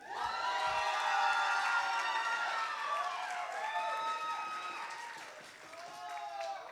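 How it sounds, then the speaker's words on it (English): A crowd at an event applauds and cheers loudly with shouting voices, a dense sustained roar that swells early and slowly eases while harmonic yells ring through it. "give her a round of applause, come on"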